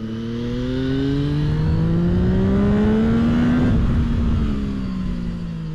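A Zontes 703 RR 699cc three-cylinder motorcycle revs hard, its engine note climbing steadily in pitch, then easing as it passes close and fades slightly, with no talk.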